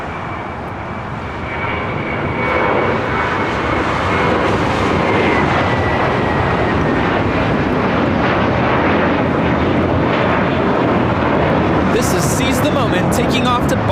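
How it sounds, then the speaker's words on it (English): A JetBlue Airways Airbus A321 takes off at LAX bound for Boston, its jet engines building into a loud, broad roar that holds steady throughout. "Taking off to Boston, JetBlue Airways flight 2188 on an A321."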